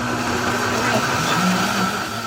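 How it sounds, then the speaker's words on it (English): A blender whirs steadily through achiote pepper sauce with vinegar and fermented peppers, a continuous close motor drone with slight pitch shifts over about two seconds. "it's back to the blender with a healthy amount of vinegar"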